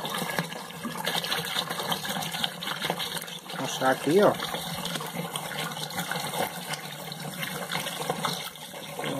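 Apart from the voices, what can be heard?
water poured into a large container for homemade liquid soap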